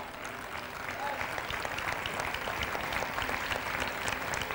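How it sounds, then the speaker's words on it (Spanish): A church congregation breaks into applause, a dense, steady wash of many hands clapping from a large room, sustained evenly and somewhat distant throughout. "Denle un aplauso al Señor."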